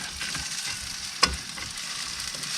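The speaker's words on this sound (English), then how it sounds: "I'm cooking a ribeye steak here" A ribeye steak sizzles steadily in a pan at a roadside camping spot, a continuous close frying hiss with one brief sharp tap partway through and no voices.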